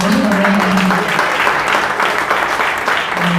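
Church congregation giving applause for the Lord, loud sustained clapping from many people throughout, with a low vocal tone and murmured voices mixed beneath it.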